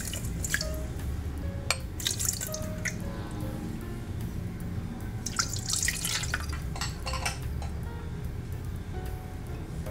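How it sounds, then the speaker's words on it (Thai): Drinking water is poured and dripped into a bowl while making Japanese okonomiyaki batter, with wet splashing and trickling that continues steadily alongside sharp clinks of glass and utensils. "น้ำดื่ม"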